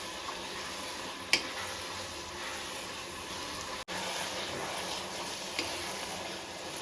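Gongura leaves cook dry in a pan without water for a pickle, making a steady, even sizzle with faint stirring scrapes throughout.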